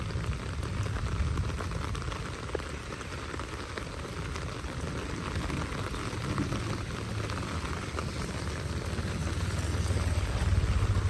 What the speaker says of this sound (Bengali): পুরো 1 ঘন্টা বৃষ্টির কারণে অনেক পানি জমছে।